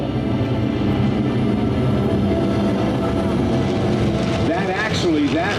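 Aerobatic team airplanes fly overhead in formation at an air show, their steady propeller drone filling the air while a commentator talks over it.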